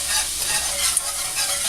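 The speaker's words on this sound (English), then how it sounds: "it is creamy garlic Parmesan chicken, so we're going to stir that in a little bit" Creamy garlic Parmesan chicken is stirred in a pan over low heat, giving a steady close sizzle with a faint utensil tap.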